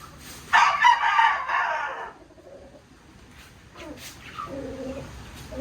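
A rooster crows once loudly and close by, a long strained call, followed by quieter clucking and softer fowl calls.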